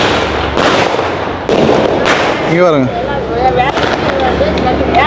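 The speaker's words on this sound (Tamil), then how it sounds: "முழுக்க எல்லாரும் முறைய பட்டாசு எல்லாம் வெடிச்சு பண்ணிக்கிறாங்க" Firecrackers burst on a ground in Chennai with repeated sharp loud bangs and crackling, one whistling rocket rising in the middle, while someone speaks nearby over the din.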